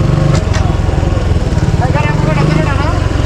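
A motorcycle engine runs steadily and loud up close on a road near Nikli Haor, Kishoreganj, Bangladesh, a continuous low rumble with people talking over it.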